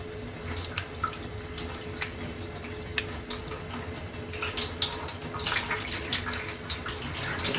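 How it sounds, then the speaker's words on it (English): Water runs and drips as wet hand-dyed yarn is squeezed out over a sink, a close, splashy trickle with small irregular spatters and drops, fairly quiet and without talk. "See if I can squeeze some of this water out."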